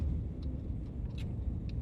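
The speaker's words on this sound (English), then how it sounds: "car coming." A car passing nearby outdoors at night, a steady broad low rumble of tyres and engine holding for about two seconds, with faint higher rustles over it.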